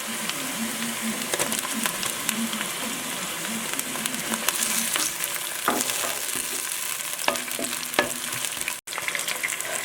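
Chopped onion and tomato sizzling steadily in a hot pan for chicken kulambu, a continuous close frying hiss broken by occasional stirring scrapes and clinks.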